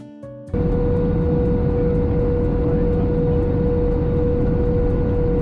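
Inside the cabin of a Qatar Airways Boeing 777 descending toward landing over Doha, a loud, steady engine and air roar with a constant hum fills the space, starting abruptly after a brief quieter moment.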